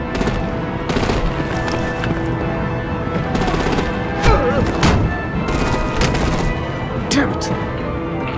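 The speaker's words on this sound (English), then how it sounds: "Break out the artillery and disable their vehicles!" Heavy artillery gunfire in the Batman: The Enemy Within game keeps up a dense, relentless barrage of loud rapid shots and booms for the whole stretch. Voices can be heard faintly beneath the din.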